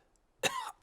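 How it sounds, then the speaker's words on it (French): A cartoon character gives a single short, sharp cough, close and isolated against near silence. "Voilà que le docteur a attrapé la toux de Pedro maintenant."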